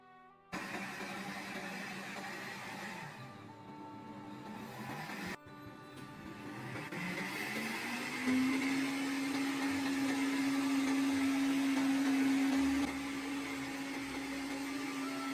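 An electric blender purees fresh tomatoes for homemade tomato paste, with a loud, steady motor whir that rises in pitch as it runs on and then holds a high, even tone, with no talk.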